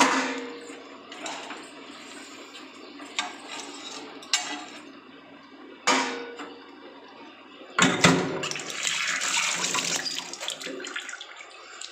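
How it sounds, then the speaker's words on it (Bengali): Water splashes and runs from a tap in a home kitchen sink during dishwashing, with a few sharp clinks of utensils, then a stronger, louder gush of water near the end. "একটু জল দিয়ে দিই।"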